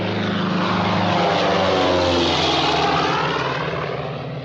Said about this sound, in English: The plane to Lisbon.